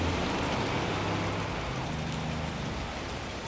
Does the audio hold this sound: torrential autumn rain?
yes